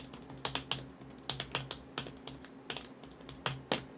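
Typing on an iPad Pro keyboard, close, quiet keystrokes tapped in short uneven bursts with brief pauses between them and no talking over the clicks.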